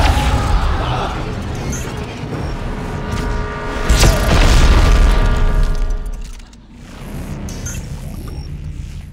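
Heavy weapon blasts in the Dead Space 3 video game, loud booming bursts with rumbling low end and crashing mechanical debris, the biggest blast landing midway through.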